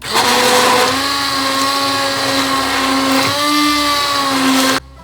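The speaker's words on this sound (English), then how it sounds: "bring in an immersion blender to make sure that's so well incorporated" A hand blender whirs loudly and steadily for several seconds as it mixes stock, its pitch dipping slightly as it churns the liquid, then cuts off abruptly.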